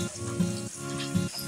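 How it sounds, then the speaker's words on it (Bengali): Cut potatoes sizzling in a pan of lightly fried onion, garlic and slit green chillies, cooked for a water spinach dish; a steady, close frying hiss runs throughout with no pauses. "এবারে সবগুলোকে বেশ কিছুক্ষণ সময় ধরে ভেজে নিব।"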